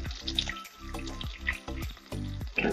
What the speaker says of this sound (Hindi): अब इसमें प्याज डाल लेते हैं